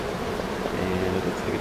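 Honeybees from a swarm being relocated and smoked off wax, a low, continuous buzzing hum that stays steady and close across the whole moment, with no talk.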